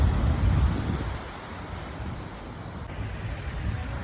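Wind and rolling surf on a beach in Vietnam, a steady broadband wash with a low rumble that swells at the start and again near the end, no voices.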